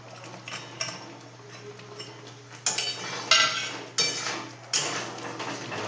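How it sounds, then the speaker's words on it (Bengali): Paneer cubes tossed and stirred in a pan for spicy chili paneer with green chillies, giving a run of sharp metallic clinks and scrapes that grow louder in the second half, with no talking. "এবার পনিরগুলো দিয়ে দেবো।"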